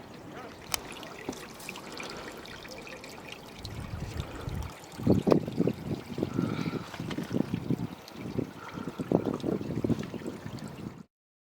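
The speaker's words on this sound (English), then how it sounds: "And this is a fountain water." Water from a stone fountain at Machu Picchu trickles and splashes in a steady, fairly loud stream that rises in strength partway through, then cuts off abruptly.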